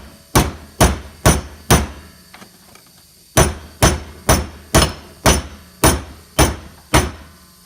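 Stainless steel heated for a coffee roaster is hammered flat in two runs of sharp, evenly spaced metallic blows. There are four strikes, a brief pause, then eight more, each ringing out loud and close.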